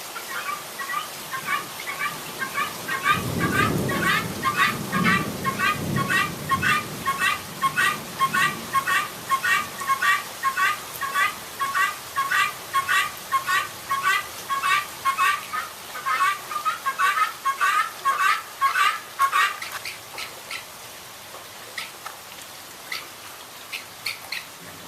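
Guinea fowl huddled in their coop on a suburban farm squawk in a fast, rhythmic string of harsh repeated calls over the steady hiss of a heavy downpour, with a brief low rumble early on.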